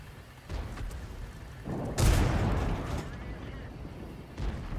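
A tank cannon firing in the video game World of Tanks, one loud booming shot in the middle followed by a rumbling tail, amid game background noise and a fainter boom near the end.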